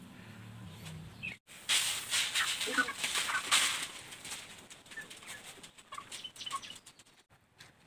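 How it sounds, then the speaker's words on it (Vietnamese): Chickens at feeding time cluck and flap their wings. A burst of loud flapping is followed by scattered clucks and rustling that fade toward the end. A brief low hum comes at the start. "bây giờ mình chuẩn bị cho gà ăn nhé mọi người nhé"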